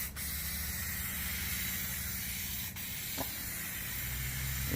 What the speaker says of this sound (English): let's spray on the first one